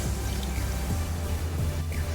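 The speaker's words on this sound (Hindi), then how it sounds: "हाफ कप हम इसमें पानी ऐड करेंगे" Half a cup of water pours into a cooking pot holding beef chatkara boti with cloves and a curry leaf, a steady, close splashing stream for about two seconds, with no talk.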